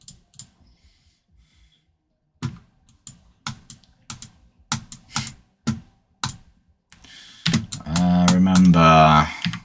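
Scattered single keyboard keystrokes tapping close by at irregular intervals, followed by a voice speaking at the end.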